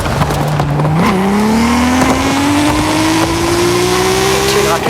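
Ocho car in Forza Horizon 5 driving toward a gymkhana event: a steady, loud engine drone climbs gradually in pitch after a brief gear change, close and sustained, with faint background game noise.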